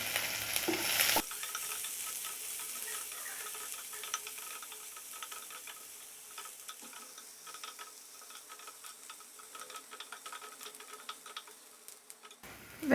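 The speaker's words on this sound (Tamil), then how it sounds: "அடுத்து வெங்காயம், மிளகாவை சேர்த்துக்கலாம்." Onion and chili sizzle in hot oil with mustard seeds and urad dal, a steady close crackle and popping with occasional stirring, louder at the start after a brief burst of noise.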